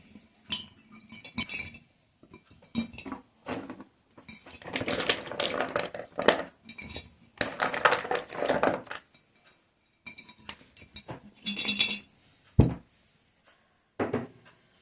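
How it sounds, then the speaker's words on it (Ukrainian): Light clinks and rattles of wild pear twigs dropped into a glass jar in scattered bursts, close by and fairly soft, with short pauses between. "скидаємо в баночку їх повністю всі"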